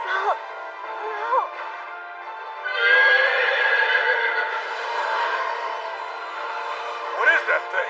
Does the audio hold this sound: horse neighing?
yes